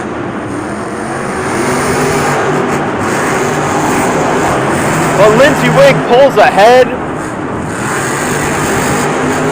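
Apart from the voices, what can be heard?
monster trucks racing at Monster Jam Houston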